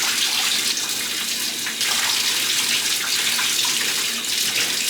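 Water runs steadily from a shower or faucet while conditioner is rinsed out of curly hair, a loud, close, continuous hiss with no voices.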